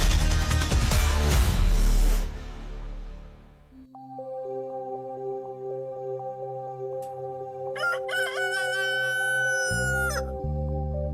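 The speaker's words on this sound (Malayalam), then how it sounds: "കോഴി കൂവി, കോഴി കൂവി" During a temple festival stage play, loud music fades out, then a rooster crows in a long, drawn-out call over a sustained tone, before the music returns.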